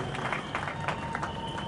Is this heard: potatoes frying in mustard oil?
no